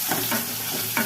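Ground onion with curry leaves sautés in a pan for tomato kuzhambu, a brief close crackling sizzle with a couple of quick stirring scrapes, with no speech.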